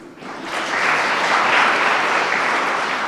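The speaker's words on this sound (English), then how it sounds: "if you all want to stand up for a round of applause" Dense applause from a seated audience at an economic development grant finalists announcement swells quickly and holds steady, loud and close, with no talking.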